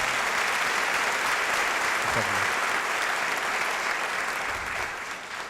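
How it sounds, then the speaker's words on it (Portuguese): A church audience at a morning service applauds a guest, a dense, loud and sustained round of clapping that fades slightly at the end, with a voice speaking briefly. "Você pode aplaudir a Deus pela vida do Gustavo"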